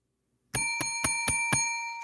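A bright bell rings five times in quick, even succession, clear and close, its metallic tone lingering after the last strike.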